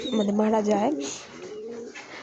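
Pet pigeons kept with their young chicks give low, soft cooing close by, partly masked by someone speaking over them.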